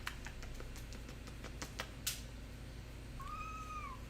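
A cat gives a single drawn-out meow near the end, over a steady background hum and scattered keyboard-like clicks.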